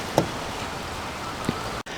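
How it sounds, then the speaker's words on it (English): Rain falls outdoors in a steady, even hiss beside a parked 2022 Ford F-150 XLT, with a couple of faint taps and a brief dropout. "Hopefully my microphone survives the rain."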